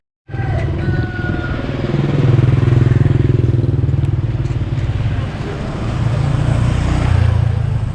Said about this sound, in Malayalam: എല്ലാവരും ഇവിടെ 2 വീലറിലാണ്.